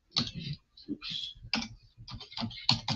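Quick keyboard typing while a phone number is entered: a run of sharp, close clicks in uneven bursts with short pauses between, steady and fairly loud throughout.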